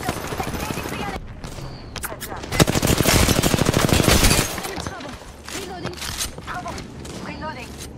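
Rapid automatic gunfire from an Apex Legends match, loud sustained bursts with a dense stretch of continuous shots mid-clip, scattered single reports around it, and a player's voice talking over the action.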